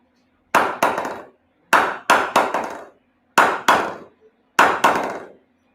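An English willow cricket bat is knocked in bursts of two or three sharp, ringing wooden taps, loud and close, with brief silences between the groups.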